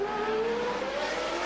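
Formula 1 cars race through the 1981 Monaco Grand Prix, their engines a steady high-pitched whine with a slowly rising tone, continuous and moderately distant with no talk.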